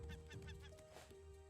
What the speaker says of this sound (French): Attaque de mouette.